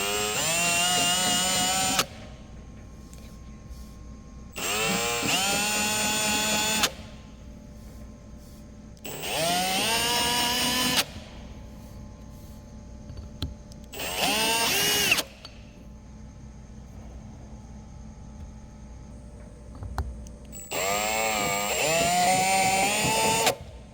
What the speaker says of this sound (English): I'm just going to use an indexable chamfering tool in a battery drill